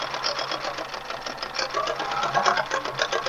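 A sewing machine outlines a yellow daffodil appliqué in yellow thread, a steady rapid stitching patter up close with slight variations in speed.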